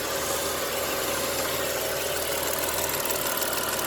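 An idling Ford Falcon engine with noisy fuel injectors, a dense steady mechanical drone with fine rapid ticking running continuously and loud throughout, no voices.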